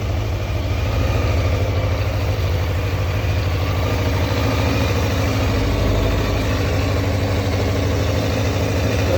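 A Honda CBR600F4 motorcycle engine idling steadily after a carburetor clean, with the choke off, a close, even, low rumbling hum that holds constant throughout with no talk over it.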